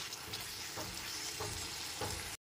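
A spoon stirs capsicum and paneer curry with added sugar in a hot pan over a loud frying sizzle, with rhythmic scraping strokes repeating about every half second before an abrupt stop.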